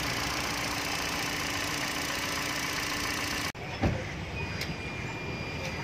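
A Hyundai Elantra engine after a head overhaul runs in a steady idle hum, then a sharp cutoff leaves a quieter, thinner idle with a brief thump and faint clicks.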